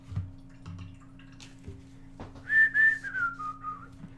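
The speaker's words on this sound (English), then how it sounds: "Oops, I'm whistling." A person whistles a short wavering tune, fairly close and clear over a steady low hum, with a few small taps and brush clicks beforehand while painting a miniature.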